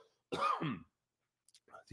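A single throaty cough close up, followed by a pause and a brief rough throat sound.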